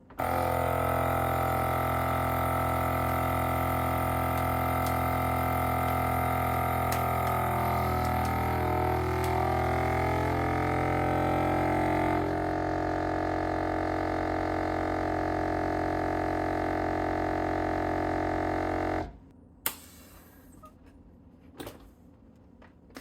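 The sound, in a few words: vacuum sealer machine pumping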